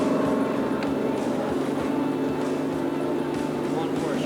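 A bass fishing motorboat on Leech Lake in Minnesota running across the water during a tournament, a loud continuous engine drone with wind and hull rush, close and steady throughout.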